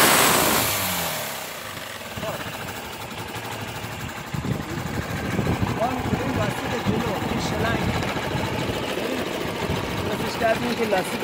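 A motorcycle engine runs close by, its rough rattling idle rising as the throttle is opened, with someone talking over it.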